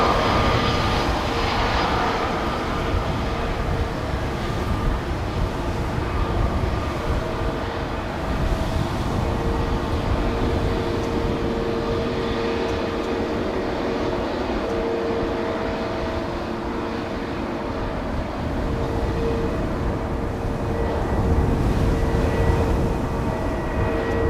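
An Air Malta Airbus A320neo, four years old, takes off at a windy Amsterdam Schiphol Airport, its engines producing a loud, sustained roar and rumble that holds steady throughout with no voices.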